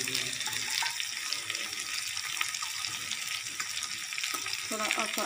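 Ivy gourd (kundru) curry sizzling in a pan after a spoonful of garam masala goes in, a steady close frying hiss with occasional stirring scrapes, continuous throughout with no talking.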